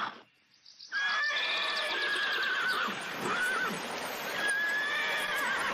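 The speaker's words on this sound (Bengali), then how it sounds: "এটা তো জমিদার মশাইয়ের ঘোড়ার গাড়ি" A cartoon scene in which horses pulling a landlord's carriage neigh loudly and repeatedly in long, high, wavering whinnies. The calls begin after a short quiet start and carry on over faint hoof clops.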